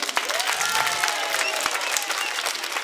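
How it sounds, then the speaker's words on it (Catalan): An audience in a theatre applauds during a children's cantata performance, steady dense clapping filling the hall with crowd noise and a faint voice or tone threaded through. "A veure, un altre aplaudiment per tots nosaltres."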